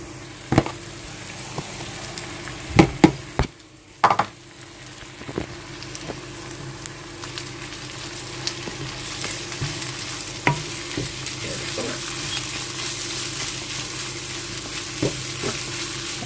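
Meat and onions fry in oil in a home kitchen, giving a steady broad sizzle with a few sharp knocks and scrapes of stirring near the start and scattered clicks later, without speech.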